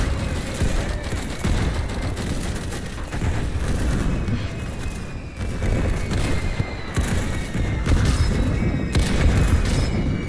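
Explosions from a grenade in a war video game boom repeatedly amid dense, continuous gunfire. The battle noise stays loud and chaotic from start to finish, with no clear pauses.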